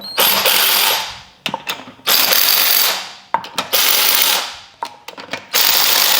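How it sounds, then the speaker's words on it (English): An electric ratchet spins lug nuts onto a Nissan Pathfinder front wheel after a wheel bearing replacement, giving loud sustained whirring bursts broken by short pauses and sharp clicks, with no talk. "I'm just going to spin them on with the electric ratchet"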